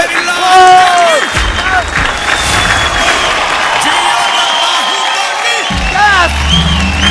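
Audience applause for Narsi Garewal at a stage event, a steady wash of clapping and crowd noise with whoops, running continuously under music and a host's voice.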